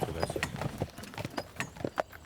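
Hooves of an Ardennes draft horse, a compact heavy breed around 800 kg, clip-clopping in a steady walking rhythm, each strike distinct and fairly close over light background noise.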